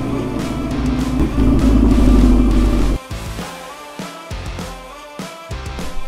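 A Chevrolet Silverado ZR2 truck fitted with a retrofitted Borla S-Type full exhaust system revs loudly up to a deep, swelling roar, then cuts abruptly and settles into short blips and a rumbling idle close by.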